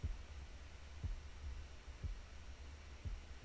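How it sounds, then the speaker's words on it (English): A low, muffled heartbeat sound effect closing an album thumps about once per second over a faint hum, quiet and steady with no voices. "now we just have that heartbeat sound effect again, exactly how the album started."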